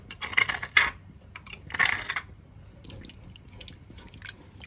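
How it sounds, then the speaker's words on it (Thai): Old water is poured off boiled bamboo shoots and yanang leaf water added. Short splashing pours come with clinks of a pot, then fade to quieter trickles and drips. "เทน้ำเก่าออกแล้วก็ใส่น้ำใบยานาง"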